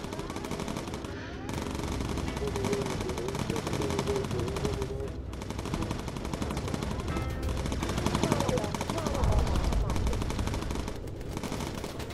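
Rapid machine-gun bursts and rumbling explosions fill a bomber crew video game battle over the Italian navy and air force, dense and continuous with booms throughout, loud and close.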